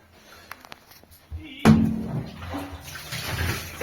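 Water gushes out of a household boiler water heater being drained and cleaned, beginning with a sudden loud splash after a few small clicks and continuing as a steady rushing pour.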